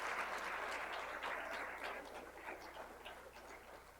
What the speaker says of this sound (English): let's give a round of applause for our Patriot League trailblazers